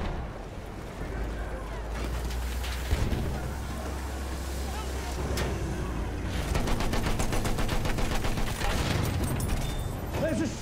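Battlefield 1 multiplayer battle with rapid machine gun fire crackling over a steady rumble of engines and wind, the bursts denser and louder in the second half.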